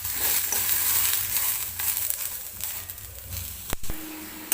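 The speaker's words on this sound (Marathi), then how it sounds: "थोडंसं डाग पडेपर्यंत हा पावटा मी भाजून घेणार आहे." Field beans (pavta) dry-roasting in a pan give a steady, close crackling sizzle with scraping stirs throughout, ending in a couple of sharp knocks.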